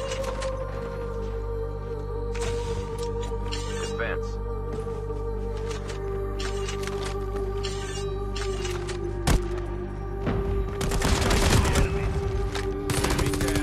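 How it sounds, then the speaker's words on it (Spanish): Bursts of gunfire in the Call of Duty Mobile video game, sounding somewhat distant amid continuous game ambience, with louder crackling shots near the end. "Por aquí se escuchan disparos, posiblemente sea un equipo completo."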